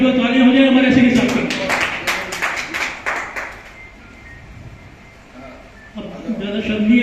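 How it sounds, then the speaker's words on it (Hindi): An audience claps for a retiring train ticket examiner at a staff retirement function in a hall, a brief burst of applause between stretches of someone speaking. "पर जो तालियां हो जाए हमारे सैनी साहब की।"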